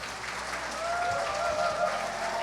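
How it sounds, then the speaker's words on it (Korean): Audience applause at the 34th Daesan Rural Award ceremony in Korea, a steady patter of many clapping hands at moderate distance that swells slightly toward the end. "큰 박수 부탁드립니다"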